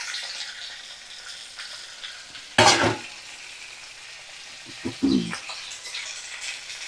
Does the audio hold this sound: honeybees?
no